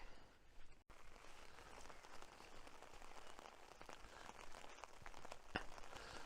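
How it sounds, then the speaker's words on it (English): Heavy rain drums steadily on an open umbrella during a coastal walk, a dense close patter that continues without a break, with a sharp knock from a drop or branch near the end. "Rain's heavier now."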